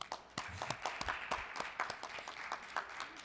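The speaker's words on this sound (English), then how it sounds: "So let's give Pat Neal Miller and her committee a round of applause." Applause from attendees at a Rotary club meeting, a modest round of scattered hand claps with distinct individual slaps, fairly quiet and without speech.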